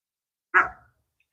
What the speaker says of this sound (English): the dogs are back there playing